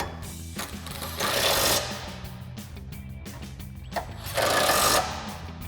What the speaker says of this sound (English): we'll grab our 13 mil socket and extension on our impact. Go ahead and get these snugged up.